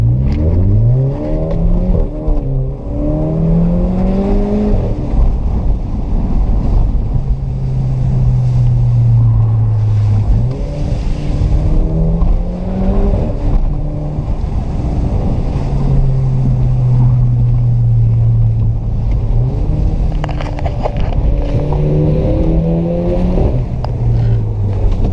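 A Skoda Octavia vRS with a modified exhaust drives along, its engine note rising and falling through gear changes in a steady, loud drone mixed with wind rush.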